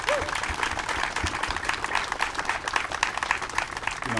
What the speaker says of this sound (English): I think they deserve a special round of applause.